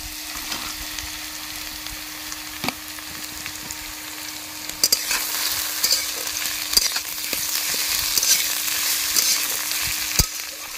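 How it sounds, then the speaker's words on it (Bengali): Potato and eggplant frying in oil as onion and chili are tipped in, a loud, steady sizzle that swells into a brighter crackle partway through, with occasional stirring knocks. "এখন আমি এটার মধ্যে দিয়ে দেবো পেঁয়াজ আর লঙ্কা।"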